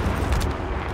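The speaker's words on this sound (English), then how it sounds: "Launch a rocket." Rocket launched in Call of Duty: Warzone, a loud, dense rumbling blast that fills the whole second with heavy low-end roar and no voices.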